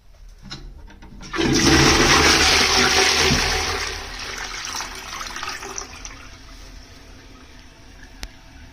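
A rimless AM.PM Hit CTA1700SC toilet flushes with a sudden loud rush of water and splashing, peaking for a couple of seconds, then tapering into a softer, steady refill trickle with no voices.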